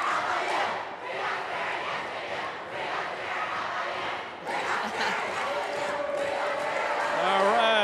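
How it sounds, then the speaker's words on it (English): A high school student section at a volleyball match between BV Northwest and SM Northwest chants and cheers in unison, crowd noise rising and falling in waves with brief shouts and a whistle-like tone near the end. "We got spirit cheering."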